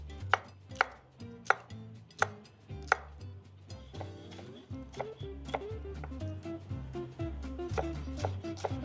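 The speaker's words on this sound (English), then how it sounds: "Just work your knife alongside the exterior of the pepper to remove the ribs, and the core will come out with it." A knife dices bell pepper on a cutting board into quarter-inch pieces, a quick run of crisp, evenly spaced chops close up with no talking.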